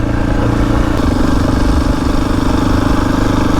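A motorcycle engine runs steadily and loud on an abandoned race circuit, a continuous mid-pitched drone with a slight shift in tone partway through, heard alone without talk.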